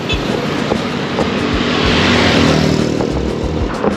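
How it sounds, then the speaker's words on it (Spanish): Dense motorcycle and car traffic in Cotonou, Benin, roars steadily close by, with engines revving and passing in overlapping waves under a constant loud road rumble. "muchísimo tráfico, las motos van, no sé si temerarios o irresponsables frente al volante, van rapidísimo"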